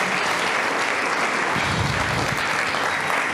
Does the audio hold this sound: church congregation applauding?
yes